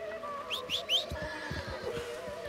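A horse in the video game Red Dead Redemption 2 whinnies in a short rising squeal over a low hum, followed by a few soft hoof clops, fairly quiet.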